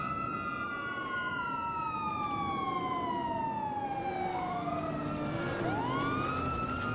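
A police car siren wails nearby with long rising and falling sweeps, the pitch gliding and a second siren tone joining near the end, loud and continuous over steady street noise.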